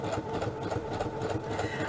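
A sewing machine runs at slow speed stitching card stock scraps into pockets, giving a close, steady mechanical whir with an even, rapid rattling pulse.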